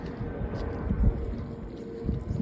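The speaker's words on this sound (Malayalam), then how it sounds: "നല്ല കാറ്റുണ്ട് ഇത് വഴി" Steady wind rumbling and buffeting against the microphone outdoors, a low continuous roar with a couple of stronger gusts.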